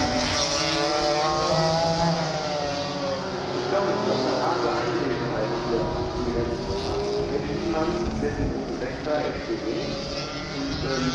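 Touring cars at the Oldtimer Grand Prix at the Nürburgring, among them a Peugeot 405, accelerate down the start-finish straight with a loud, steady, layered engine roar that fills the clip, and a commentator talks over it.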